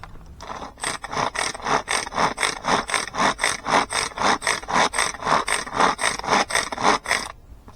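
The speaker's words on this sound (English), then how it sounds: "I'm going to finely mince those through this machine" A hand-cranked worm cutter finely minces fishing bait worms, producing a close, loud, regular rasping crunch about twice per second that continues steadily for several seconds.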